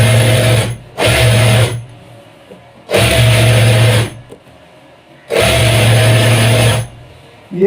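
A sewing machine stitches a gents' shalwar in three loud bursts of steady whirring, each lasting about a second, with short quiet gaps between them.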